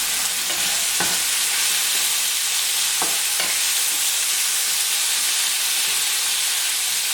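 Meat and onions frying in a pan give a loud, dense, continuous sizzle with a few brief scraping stir knocks, close-up and without any speech.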